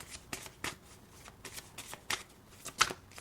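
Tarot cards are shuffled by hand close by, a series of short papery riffles and slaps that repeat at an irregular pace, a few louder than the others.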